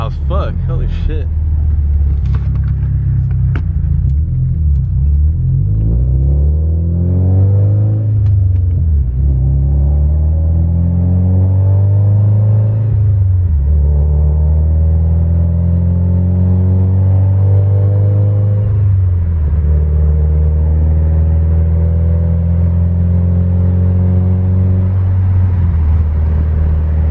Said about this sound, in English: Damn, this car's loud as fuck.